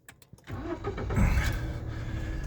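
A 2010 Toyota Aygo with a one-litre three-cylinder engine and 157,000 km, a few clicks followed by the engine cranking and settling into a steady, fairly close idle.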